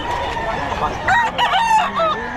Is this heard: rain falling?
no